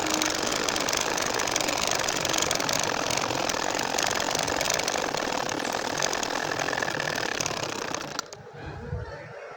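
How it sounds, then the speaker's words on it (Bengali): Sewing machine stitching a baby nakshi kantha quilt, a steady, fast, close mechanical rattle of the needle running continuously for about eight seconds before abruptly stopping. "এখন আবারও সেই দুই করের মতো রেখে সেলাই করে নিচ্ছি"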